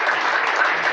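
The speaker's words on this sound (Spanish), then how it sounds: "fuerte aplauso al Señor." Brief burst of steady applause from a church congregation, dense clapping heard close and fairly loud.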